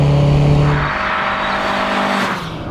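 A Fiat Tipo 2.0 16v, the Sedicivalvole, drones loudly under way, its engine pulling hard at high revs as a steady, close roar with a slight pitch drop partway through.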